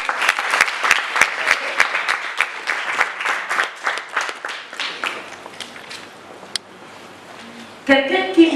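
A church congregation applauds in a quick, dense burst of clapping that thins and fades over several seconds before other sound returns at the end.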